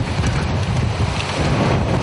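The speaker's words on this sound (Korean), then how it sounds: "이렇게 좀 파도 치는 것 같은데" Wind and sea waves buffet a crab fishing boat in the open sea, a loud continuous roar with heavy wind rumble on the microphone and no talk.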